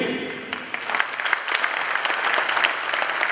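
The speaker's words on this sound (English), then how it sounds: "a round of applause one more time for His Majesty the King" Sustained applause from a sizable audience at an arts awards ceremony, a continuous wash of clapping with a few sharper claps standing out, no voices heard.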